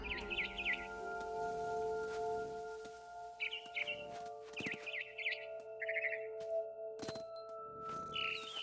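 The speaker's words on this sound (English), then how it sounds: "was a barn swallow going back to her nest" A barn swallow chirps in the video game What Remains of Edith Finch, with short, bright bursts of calls coming and going over a steady hum of ambient game music, plus a few soft thuds.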